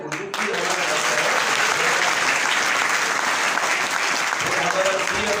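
An audience at a patriotic Hindi speech event bursts into loud, sustained applause, a dense wash of many hands clapping that starts abruptly and carries on evenly at full strength.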